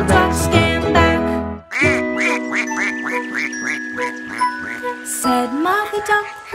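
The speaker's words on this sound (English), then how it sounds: "Mother Duck said quack, quack, quack, quack" Cartoonish duck quacks in a children's nursery rhyme about Mother Duck, a run of bright, evenly spaced quacks over sustained musical tones and a light jingle, loud and up front.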